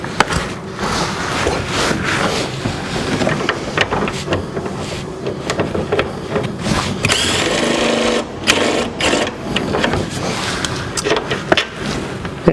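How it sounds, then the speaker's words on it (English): A tool whirs and rattles continuously while loosening a 19 mm front control arm bolt on a 1994 Toyota Corolla, a dense, fast mechanical buzz with a few sharp clanks along the way. "I'm going to take loose the 19 millimeter right here in the front"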